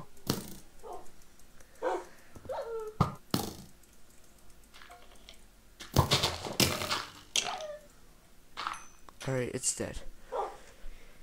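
A Minecraft dog from the Doggy Talents mod lets out several short, sharp barks and yips at irregular intervals, with someone talking between them.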